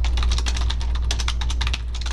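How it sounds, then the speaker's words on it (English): Typing on a computer keyboard, with quick, steady clusters of clicking keystrokes running close and clear throughout over a low background hum. "I'm gonna go ahead and type in here what it's for."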